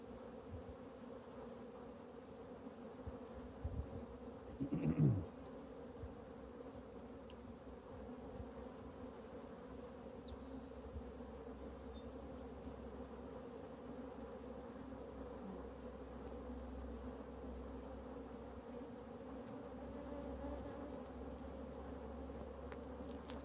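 Honeybees buzzing around an open hive frame during an inspection: a steady, soft, continuous drone of many bees with a brief louder swell near the start, no voices.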